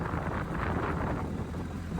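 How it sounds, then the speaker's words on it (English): Strong wind blowing outdoors, buffeting the microphone as a loud, continuous low rush lasting the whole moment, with no voices. "Can you guys hear this wind?"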